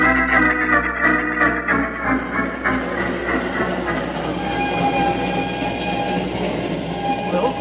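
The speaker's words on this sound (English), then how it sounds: "We've caught the train." A train runs steadily in a Sherlock Holmes video game, its rolling, rattling rumble continuous and fairly loud throughout, with a dense layer of wheel and carriage noise and no talking.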